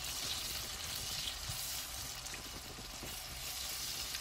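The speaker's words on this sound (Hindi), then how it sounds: "प्याज फ्राई कर लेंगे सबसे पहले, जो हमने बारीक काट के रखी है, गोल्डन ब्राउन करेंगे" Finely chopped onions fry in hot olive oil for a biryani: a continuous, even sizzle and crackle with small pops scattered throughout, fairly quiet and with no voices.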